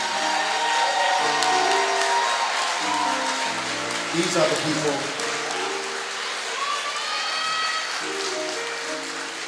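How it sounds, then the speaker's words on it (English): An audience at an African American graduation ceremony gives a round of applause, a continuous bed of clapping running beneath someone speaking into a microphone. "Let's give them a round of applause."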